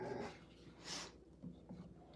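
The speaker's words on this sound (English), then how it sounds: "Her growls." A dog growls low and rumbling at close range, a few short throaty bursts with brief pauses in a quiet indoor room.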